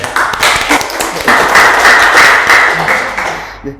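A seminar audience at a government employee orientation breaks into applause, a burst of many hands clapping together, loud and close, that fades out at the end.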